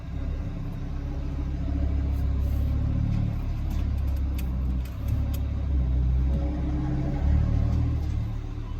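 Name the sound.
2018 Audi RS3 exhaust valves opening while revving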